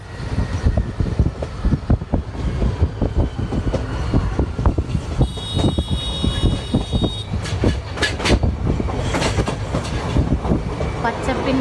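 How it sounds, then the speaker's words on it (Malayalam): Train carriage in motion through rural farmland, with steady rumbling wheel noise and rhythmic clickety-clack over the rails, loud and close throughout, a brief high squeal partway through, and scattered voices under the din. "നമ്മളിപ്പോ ട്രെയിനിലാണ് കേട്ടോ."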